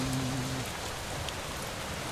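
A rainstorm opens the Fushigi no Gensokyo 3 video game with a steady, dense hiss of falling rain. A faint low musical tone sits under it at the very start.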